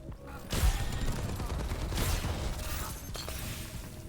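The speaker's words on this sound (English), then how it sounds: "That was an Ana Grenade." An Ana grenade bursts during a hectic Overwatch 2 fight, a sharp impact near the start followed by a continuous wash of game effects and noise with no clear pauses.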